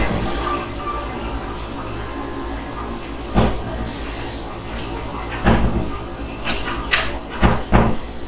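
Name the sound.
bedroom door being opened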